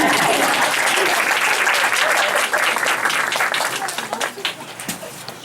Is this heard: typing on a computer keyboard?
no